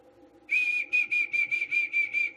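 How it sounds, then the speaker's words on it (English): A single person whistles through the teeth, one steady bright tone broken into a rapid series of pulsing bursts, loud and close with no other sounds. "Basically, I whistle two different ways."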